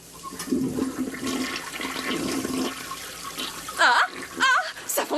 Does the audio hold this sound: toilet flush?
yes